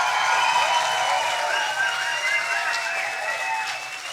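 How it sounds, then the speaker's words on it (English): Audience applause at a science slam in 2024, sustained clapping from a crowd, fairly even and moderately loud, with tonal stage sounds layered over it. "How does a stage 10 applause sound like tonight?"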